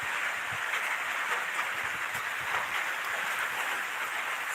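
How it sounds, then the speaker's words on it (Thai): Soft, even rain hiss falls steadily in the background, faint and continuous, with no voices. "บรรยากาศฝนตกครับ"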